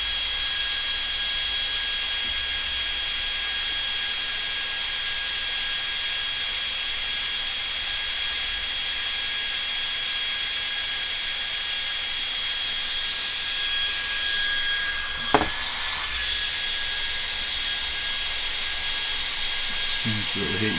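A small fan blows steadily to cool the heatsink of a Fnirsi IPS 3608 power supply, giving a constant close whirring hiss with a high whine, broken by one brief sharp click midway.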